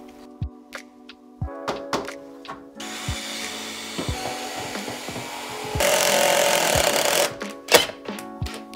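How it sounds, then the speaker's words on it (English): A power driver runs screws through a new Ecoline window frame into the existing wooden framing, with short bursts of whirring, clicks and wooden thunks, close and clear, without talk. "We're just screwing in the frame now, as you can hear."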